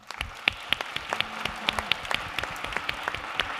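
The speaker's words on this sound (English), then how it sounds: "Please join me in giving them a big applause to the students." Audience at the wrap-up session of the Tokyo Forum 2025 applauds students, a thin, sparse patter of claps with distinct individual hand strikes over a faint room background.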